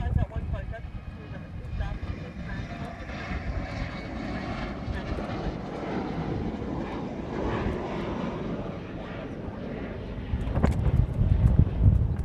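A Hawaiian Airlines airliner departing Honolulu airport, a broad, steady jet roar with wind buffeting the microphone, swelling louder toward the end, with talking over it.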